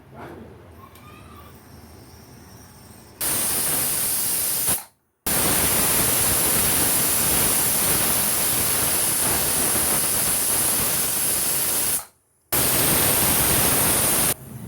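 A pressure cooker cooking rava pongal releases loud, steady hissing steam under pressure, broken by two brief silences, after quieter background noise at the start.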